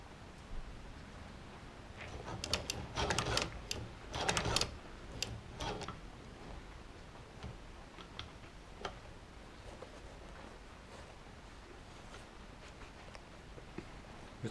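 Chinese shoe patcher sewing machine stitching a tennis shoe repair, giving bursts of rapid mechanical ticking and clacking, loudest early on, then sparser, fainter clicks against a quiet background.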